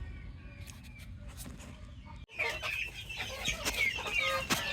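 Chickens cluck and chatter close by as they are fed torn pieces of bread, the calls growing louder and busier after a brief handling thump midway.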